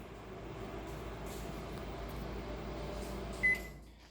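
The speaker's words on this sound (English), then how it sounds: "you're going to microwave it for, at 30-second stints until it's all melted" A microwave oven hums steadily while melting coconut oil in short bursts, a low constant drone with a brief beep near the end and a click as it stops.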